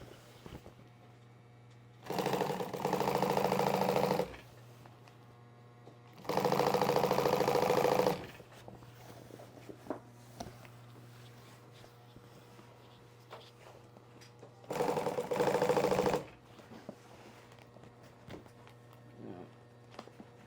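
Sewing machine runs in three separate bursts of steady, rapid stitching through a large piece of upholstery fabric, with quieter handling noises and a low hum in between.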